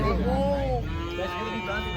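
Cattle lowing as they are unloaded from a truck, a couple of drawn-out moos close by with people talking and outdoor bustle around them.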